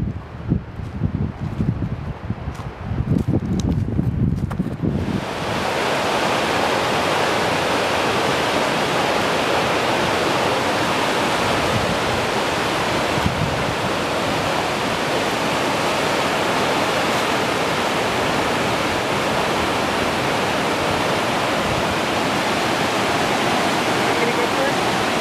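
Lorry's Falls, a waterfall in the Middle Prong Wilderness, roaring as a steady broadband rush after a few seconds of trail noise and footsteps, close and loud.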